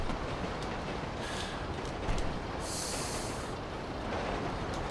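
A train rolling past in GTA 5 Online, a steady broadband rumble with rail clatter held at constant loudness for the whole stretch, plus a brief hiss partway through.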